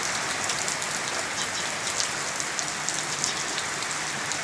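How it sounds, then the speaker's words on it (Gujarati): Heavy evening downpour over villages around Dhari in Amreli district, Gujarat: a steady, dense hiss of rain hitting surfaces, continuous and even throughout, with no voices. "6 વાગ્યાનો અંધરાધાર વરસાદ પડી રહ્યો છે"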